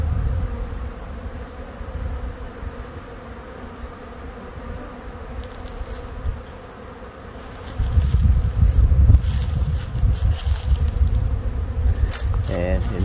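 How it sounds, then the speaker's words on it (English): Dense buzzing of many bees hums steadily nearby, swelling louder in the second half, with low wind rumble underneath and no clear talk. "This was from a package of bees."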